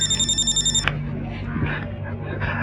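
A telephone bell rings in a fast repeating trill for under a second, then cuts off, leaving room noise and faint movement.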